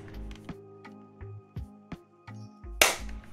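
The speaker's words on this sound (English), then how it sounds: "That's the sound of something clicking into place." A part of an N64 controller fitted with an 8BitDo mod kit and joystick snaps into place, giving a set of sharp, close plastic clicks and taps in an irregular rhythm, with one louder crackling snap near the end.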